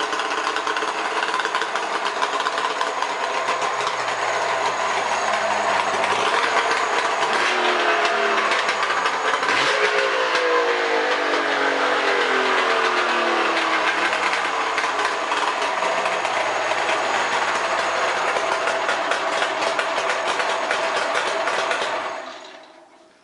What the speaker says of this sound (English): XCR 900 two-stroke snowmobile engine.